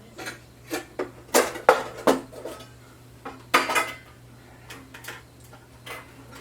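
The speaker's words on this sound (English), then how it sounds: "Has a pan, a pot, a plate, a cup, although it's plastic" Mess kit pan, pot, plate and plastic cup being handled, a series of close metallic clanks and light plastic knocks in irregular bursts over a faint background hum.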